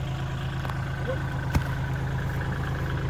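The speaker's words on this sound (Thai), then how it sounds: "นี่คือรถไถที่มาปั่นนะครับผม" A tractor working in a rubber plantation, its engine running at a steady low chugging rumble with a faint click partway through, moderately close and continuous.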